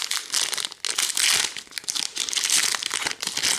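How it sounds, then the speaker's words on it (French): A Pokémon card booster pack foil wrapper crinkles and tears open up close, a continuous loud rustling with brief pauses and bursts of crackle. "On va ouvrir un quatrième booster."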